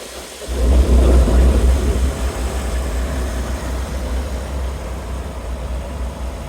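A restored 1964 Chevrolet Corvair Monza coupe with a Powerglide automatic has its engine running close by, a steady low rumbling idle that swells briefly near the start and then settles into an even drone.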